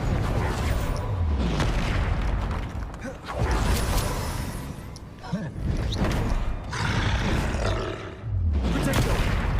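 Confringo spells blast in the Hogwarts Legacy video game, with heavy booming explosions and roaring bursts that repeat several times, loud and close, mixed with rumbling game effects.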